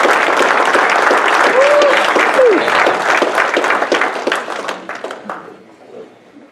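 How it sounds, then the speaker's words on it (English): Applause erupts for a racer at a 2017 motor speedway awards banquet, a dense, loud wave of clapping from a large room that holds steady for several seconds, then thins and fades out, with a brief vocal whoop riding over it. "Big round of applause for Brad Shepard"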